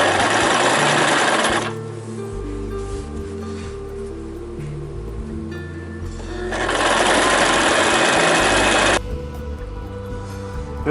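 Curtain fabric runs through a sewing machine in two long, loud, steady stitching runs, with a quieter motor hum and mechanical whir between them; no voices.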